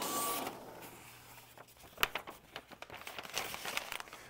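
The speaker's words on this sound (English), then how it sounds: "If you hold the button down, it will continue to feed the paper." HP PageWide large-format printer feeding paper from a roll, a soft whirring motor with quick rustling and crinkling of the sheet, close and fairly quiet.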